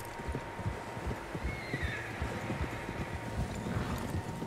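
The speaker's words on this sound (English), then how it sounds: "Horses, quite a few of them." Several horses in the video game Red Dead Redemption 2, with soft clip-clop hoof beats, a neigh and snorting over a steady wind bed, moderately quiet and without talk.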